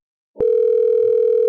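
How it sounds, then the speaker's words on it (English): A telephone ringback tone, one steady electronic note that starts abruptly after a brief silence and holds loud and unbroken to the end. "Ring number 2."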